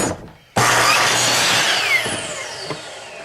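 A power saw starts up and cuts through a wooden board during a shop bench build, a sudden loud, close whine that holds steady for a few seconds and then begins to ease off.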